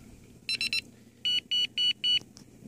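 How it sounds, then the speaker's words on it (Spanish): An Ultron bite alarm for carp fishing gives a quick triple beep, then four longer, evenly spaced electronic tones, bright and close against a quiet background. "Es una alarma muy... No es muy continuo el sonido, es un sonido muy bueno"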